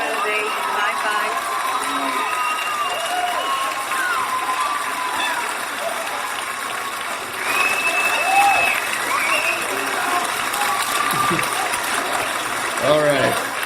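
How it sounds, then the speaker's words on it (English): Canned applause sound effect played on a talk show: a steady, dense wash of clapping and crowd noise lasting several seconds, moderately loud, with faint voices and tonal sounds mixed through it. "Enough of that cheesy fake applause and everything."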